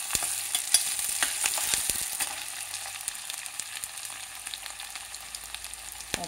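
Onions frying in a pan, a steady crackling sizzle with soft scattered pops and occasional stirring scrapes, close and continuous with no talk.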